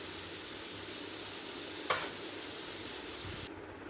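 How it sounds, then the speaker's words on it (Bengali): Potatoes fry in mustard oil in a steady, close, dense sizzle, with the occasional soft scrape of a stirring spoon against the pan. "আলুগুলো প্রায় লাল লাল করে ভাজা হয়ে গেছে।"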